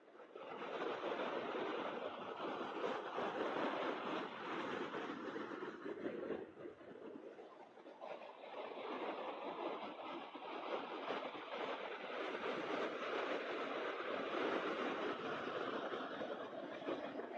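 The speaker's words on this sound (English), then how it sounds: "You can see all Falcon engines right there firing away." SpaceX Falcon 9 rocket engines during the Crew-2 launch, watched from a beach park in Cocoa Beach, Florida, give a steady, distant broadband roar that rumbles on without a break for the whole stretch.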